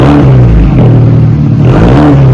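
A 2024 Ford Mustang with its rear mufflers deleted gives a loud, close, deep exhaust rumble that swells and eases slightly as the engine revs, with no voices.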